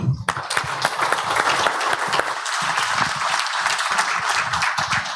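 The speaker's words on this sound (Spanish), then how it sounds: "Así que un aplauso para él." Audience applause greets panelist Jorge Navarrete at a markets-and-current-affairs talk, a steady, loud, dense patter of many hands clapping throughout, close and continuous without talk.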